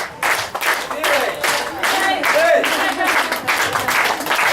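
Crowd applause for winners and prize-takers at the Balsas LT awards ceremony, sustained dense clapping with an announcer's voice speaking over it.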